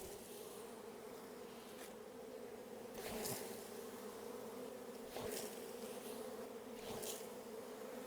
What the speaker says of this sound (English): So see them all flying around there.